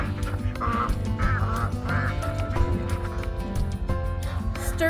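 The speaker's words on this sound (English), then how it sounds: "having to chase the ducks out of the stalls so the horses can eat their food" Ducks quacking inside horse stalls at a horse rescue, repeated nasal calls mixed with a dense background of music-like tones and barn noise, steady and fairly loud throughout.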